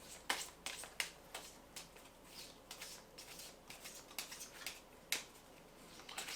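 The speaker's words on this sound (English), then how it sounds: "Take these cards, give them a shuffle." A deck of board game cards for the dungeon-crawl game Knight Tales being shuffled by hand, giving a run of crisp riffling snaps and flicks at irregular intervals, close and fairly quiet, with no talking.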